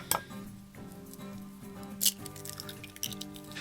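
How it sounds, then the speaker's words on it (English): Eggs are cracked into a bowl, making a few brief taps and clinks of shell against the rim, with a light splash under a faint steady hum in the room. "we're gonna crack these into this bowl"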